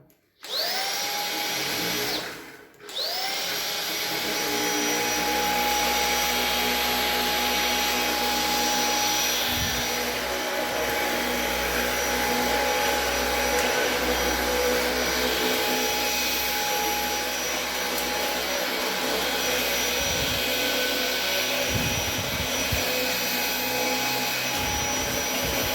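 A Roborock H6 cordless vacuum cleaner runs with a loud, steady high-pitched whine and motor drone. It briefly cuts out near the start, then continues unbroken with faint bumps of handling.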